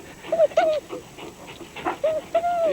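A dog whimpers in a run of short, high, falling whines, loud and close, with soft panting and rustle between the cries.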